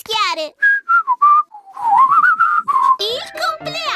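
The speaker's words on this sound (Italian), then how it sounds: "A me è sembrato il suono di un fischio" A short, bright whistled tune of several clear notes rises and falls, framed by brief bits of animated speech before and after.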